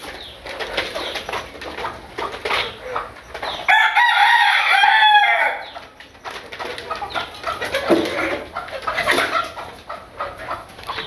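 Chickens cluck and a rooster crows in a backyard flock kept for eggs, several hens brooding nearby; the birds call repeatedly and fairly close, with a louder crowing burst in the middle and no talking.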